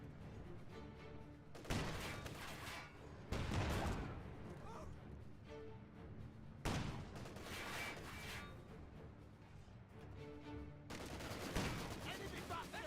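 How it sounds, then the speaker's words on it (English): An enemy tank fires in a war video game: several loud, booming shots come at irregular intervals, each a sharp blast with a rumbling tail, over a steady background din. "Enemy tank firing!"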